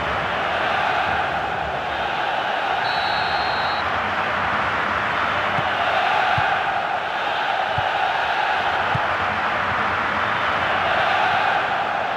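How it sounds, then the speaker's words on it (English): A full stadium crowd in the PES 2011 football video game gives off a continuous loud roar of massed voices, swelling and easing slightly in waves throughout. "There is nowhere quite like this for noise. The capacity crowd getting behind their team."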